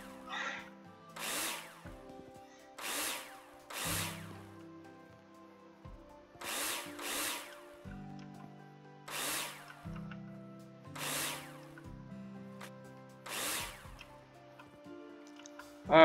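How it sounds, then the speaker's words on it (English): A power screwdriver in the game Builder Simulator drives screws into insulation panels during house construction, giving a series of short whirring bursts spaced irregularly with brief pauses between them over a quiet background. "let's screw them in"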